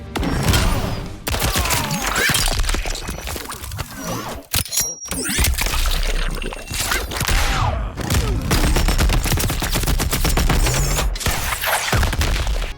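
RoboCop's guns firing in the fighting game Mortal Kombat 11: loud, dense bursts of gunfire with mechanical clanks, broken by a few brief pauses, with no talk over them.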